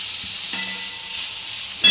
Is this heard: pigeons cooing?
no